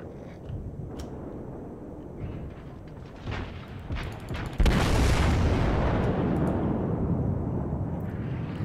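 Naval guns fire in the World of Warships video game: a series of muffled booms builds up, then a heavy salvo lands around the midpoint and leaves a loud, sustained roaring rumble.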